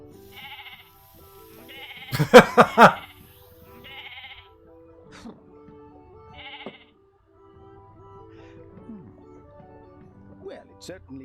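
Sheep in a wizarding video game bleat in a short burst of several loud cries, with quieter game tones and someone talking around them.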